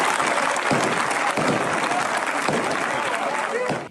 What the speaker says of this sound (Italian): Quindi l'applauso liberatorio dei fedeli.